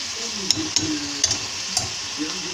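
Tomatoes sizzle in a pan for a chicken sauté, with a steady close frying hiss. Several soft scraping and clinking stirs come at irregular moments, and low voice-like murmurs sit beneath.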